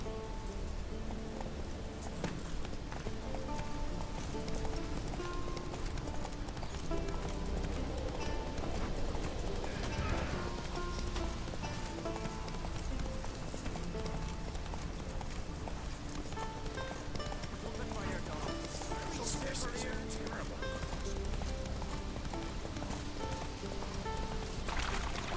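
In The Witcher 3, the horse Roach gallops in a continuous run of hoof clip-clops, steady and fairly close, layered over a dense game soundscape with a rain-like patter.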